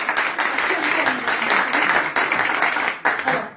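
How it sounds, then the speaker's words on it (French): A small indoor audience at a live mediumship event claps vigorously and steadily for several seconds, close and lively, with some voices mixed in. "On l'applaudit bien fort."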